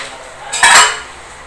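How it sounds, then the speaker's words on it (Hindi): A metal tawa griddle clanks and scrapes as it is set under a pot of Banarasi biryani for dum cooking, one short, loud metallic contact heard close up. "दम लगाने के लिए हम इसके नीचे तवा भी रखेंगे ताकि इसको अच्छा सा दम लगे और ये नीचे से चावल जले ना"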